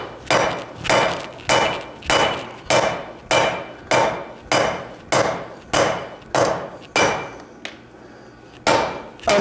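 Blacksmith's hammer striking steel at welding heat on an anvil at a forge, about fourteen loud ringing blows in an even rhythm with one brief pause, close and clear without speech.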